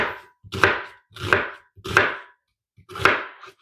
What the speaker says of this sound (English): Now I'm going to prepare half an onion.